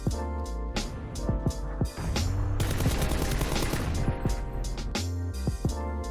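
In the PUBG video game, loud gunfire comes close up: rapid bursts of shots in quick succession, then a sustained stretch of automatic fire, then a few more separate shots.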